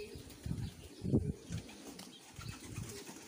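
Soft, low cooing from pigeons in a few short bursts, fairly quiet against a faint background murmur.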